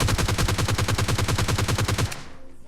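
Rapid automatic gunfire in the mobile battle royale PUBG Mobile Lite, a loud, steady string of close shots that cuts off abruptly and leaves a fading tail.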